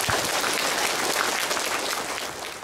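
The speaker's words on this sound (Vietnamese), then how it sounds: "Chúng ta cho ca đoàn Thánh Linh một tràng pháo tay." Sustained applause from a church congregation honoring a parish choir at a Catholic celebration in Perth, a dense, steady clapping wash that holds evenly and then tapers slightly, with no speech over it.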